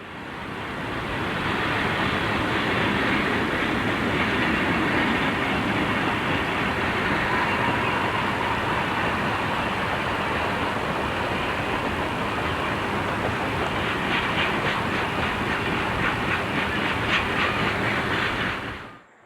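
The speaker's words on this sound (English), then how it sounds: "the train is running over the famous and picturesque high railroad fill" A coal train rumbles steadily past on a high railroad fill for the whole stretch, loud and continuous, with rhythmic clicking of wheels over rail joints toward the end before it fades.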